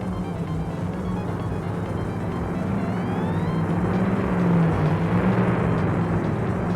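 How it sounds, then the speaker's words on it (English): Two loud drag cars in the video game My Summer Car give a continuous deep engine rumble and drone, steady and close throughout with a slight swell near the end and no talk. "these two drag cars are loud"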